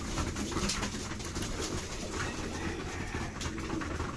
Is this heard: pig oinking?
no